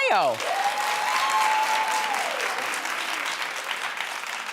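An audience claps together in a studio, a broad, sustained wash of hands that starts abruptly and holds steady, with a voice speaking briefly over the start.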